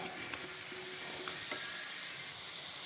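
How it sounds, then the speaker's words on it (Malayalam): Masala with fried sardines sautéing in oil, a steady close sizzle with spatula scrapes and stirring taps, continuous and without voices. "ഫ്രൈ ചെയ്ത എണ്ണയിലിട്ട് കുറച്ച് വഴറ്റിയെടുക്കാം"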